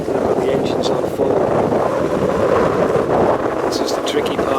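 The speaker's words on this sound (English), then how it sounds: "I've got the engines on full." A sailing catamaran's engines run at full power against current, a steady close drone with heavy wind buffeting the microphone throughout.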